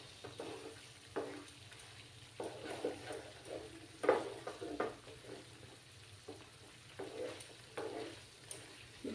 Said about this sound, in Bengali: আরও কিছুক্ষণ এইভাবে নাড়াচাড়া করতে হবে